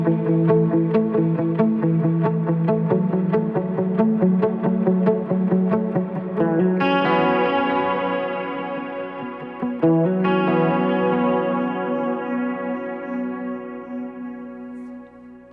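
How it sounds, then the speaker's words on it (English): Electric guitar played through overdrive with chorus, vibrato, delay and reverb, a steady run of picked notes with wide repeats trailing behind, swelling into two bright ringing chords that sustain and fade; loud and up close, no voices. "I'm going to also add a little bit of chorus and vibrato"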